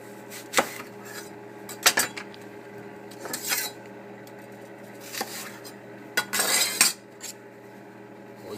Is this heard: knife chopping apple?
yes